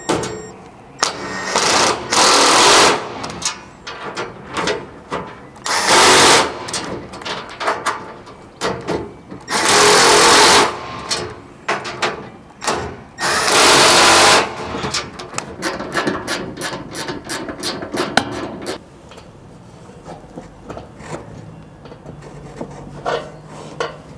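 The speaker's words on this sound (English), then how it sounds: "So we'll tighten up all the nuts and bolts on the cargo barrier itself" Tools tightening nuts and bolts on a vehicle cargo barrier, loud repeated bursts of rapid ratcheting and whirring in irregular runs, up close, with softer clicks and handling between bursts.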